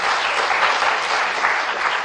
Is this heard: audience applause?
yes